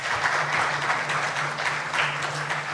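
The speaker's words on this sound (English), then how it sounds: "Can we have a round of applause?" Audience at a corporate product launch event gives a sustained round of applause welcoming moderator Anshuman Divyanshu, thick and even clapping from a full room over a low steady hum.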